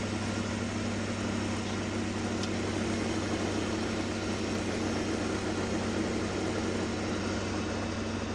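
A 7.3 Powerstroke diesel truck engine hauls 15,900 lbs up a steep driveway, giving a steady, loud, unbroken drone with a deep hum and no talk.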